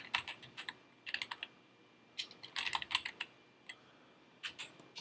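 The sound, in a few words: typing on a computer keyboard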